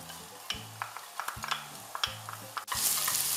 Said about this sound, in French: Je vais remuer un petit peu jusqu'à ce que l'oignon soit translucide.